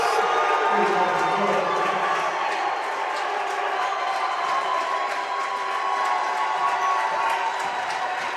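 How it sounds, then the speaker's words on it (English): A large crowd of Salem fans at a high school basketball game against Owensville, producing a steady, loud roar of cheering and chatter that holds throughout, with faint voices mixed in. "you can tell from the crowd noise that there is definitely a lot of Salem fans here tonight"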